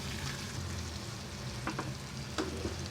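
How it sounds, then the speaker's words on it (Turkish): Potatoes and green beans fry in a pan with a steady soft sizzle, while a utensil stirs through them in a few short scraping strokes partway through. "patatesli Taze fasulyemiz yeteri kadar kavruldu. Şöyle bir karıştıralım"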